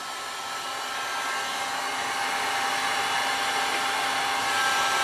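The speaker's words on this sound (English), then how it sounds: "This is just one of those heat guns you use for when you're stripping paint." A paint-stripping heat gun blows hot air while heating stone for a gold pendant, a steady broadband airy rush that holds constant and slightly builds, close and alone with no talking.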